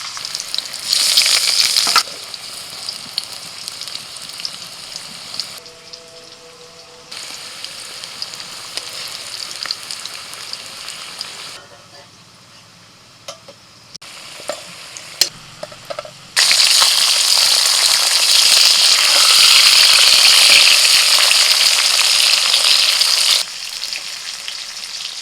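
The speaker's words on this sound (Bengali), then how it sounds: "সিম আলু সিদ্ধ হয়ে গেছে, ভেজে নিচ্ছি" Boiled broad beans and potatoes fry in a pan with a steady loud sizzle, fading quieter in the middle as they are stirred with scattered clinks, then surging back to a dense crackling hiss.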